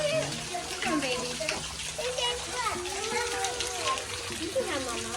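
Running water along a trail at Giant City State Park in Illinois, a continuous gushing wash heard close, while children and adults talk over it almost the whole time.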